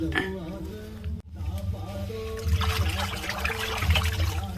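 Water gushes and trickles steadily through an irrigation sluice gate into a paddy field, growing louder partway through, with a low rumble beneath and a person speaking briefly over it.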